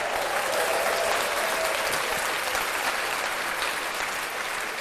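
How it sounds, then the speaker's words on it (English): A podcast audience claps in a sustained, even burst of applause, many hands at once, moderately loud and unbroken throughout. "Clap that up. Clap that up."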